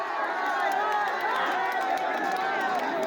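Large festival crowd at the Bahuda Yatra chariot procession in Champua, Keonjhar, Odisha, a dense continuous roar of many voices and movement, steady and loud throughout.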